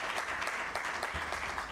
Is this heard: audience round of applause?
yes